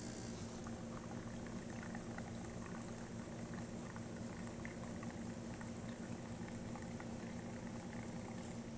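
A Jura J8 coffee machine, freshly serviced, dispenses hot water with a steady hissing, bubbling rush and a low pump hum that runs unbroken and fairly close throughout.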